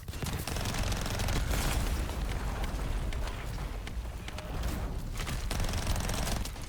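Heavy automatic gunfire with strong recoil in The First Descendant, a dense continuous roar of rapid shots filling the scene, loud and close with brief lulls and no talk.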